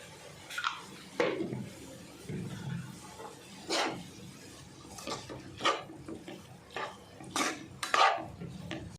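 A spoon scrapes and knocks against a pan while chicken keema is stirred and sautéed. Intermittent clinks and scraping strokes come at an uneven rhythm, fairly quiet and close, with no talk.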